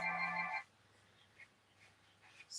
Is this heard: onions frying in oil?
no